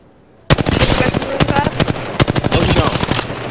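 Rapid automatic weapon fire in Apex Legends, long bursts of closely spaced shots starting abruptly after a brief quiet moment, loud and near, with short pauses between strings of rounds.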